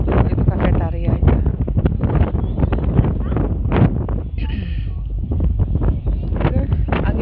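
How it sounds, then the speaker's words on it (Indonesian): Strong wind buffets the microphone on the open upper deck of a crowded Bakauheni–Merak ferry, a loud continuous roar with gusty surges, and people talk over it nearby. "Terus angin kencang banget"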